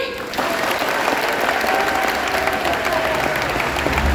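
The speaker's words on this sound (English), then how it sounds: "on a count of 3, it's your turn to applaud" An aquarium audience at a dolphin show bursts into loud, dense applause after a brief quieter moment, the clapping continuing steadily to the end.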